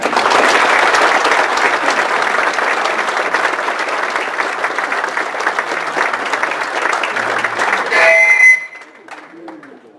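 Loud, steady applause from a large audience welcoming speaker Dr. Bill Harley to a marriage leadership talk, dense clapping sustained for about eight seconds before cutting off abruptly into a quieter room.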